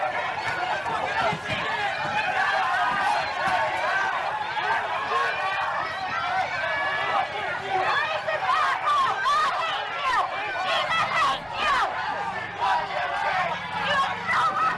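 A dense, riled-up protest crowd surrounding someone dressed as Spider-Man, continuous loud babble of many voices with shouts and movement, close and steady throughout.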